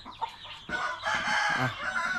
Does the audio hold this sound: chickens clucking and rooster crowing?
yes